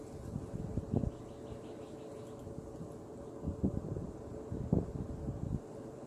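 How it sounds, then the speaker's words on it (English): Wind buffets a microphone outdoors, a steady low rumble with gusty swells at a few points and faint background noise. "This freaking wind is bothering me."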